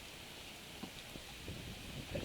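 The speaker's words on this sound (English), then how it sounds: "this is me going in the rain." Rain falling outdoors, a faint, steady hiss of drops with a few soft patters and taps standing out now and then, quiet and diffuse with no talking.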